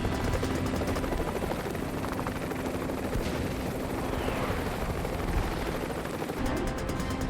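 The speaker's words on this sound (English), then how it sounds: "Today at Quantico, HMX Helos are dropping an assault team by fast rope." HMX helicopter hovering at Quantico as an assault team fast-ropes down, a dense continuous rotor thump and turbine roar with rapid chopping beats, steady and fairly distant.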